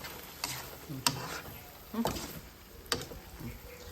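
Fresh Pereskia greens are stir-fried in a pan outdoors, giving a faint, steady sizzle broken by several sharp scrapes and clacks of the spatula against the pan, roughly one every second.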